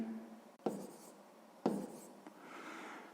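Pen strokes while a maths solution is written out for a sixth-grade exercise, with two distinct bursts of scratching on paper and quieter scribbling in between, close and alone without talk.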